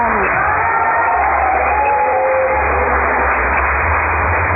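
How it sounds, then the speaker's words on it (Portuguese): Church congregation clapping in praise during a service, a continuous dense patter of many hands with a steady low hum underneath, muffled and band-limited as if through a poor recording. "E pode exaltar o Rei Jesus com palmas."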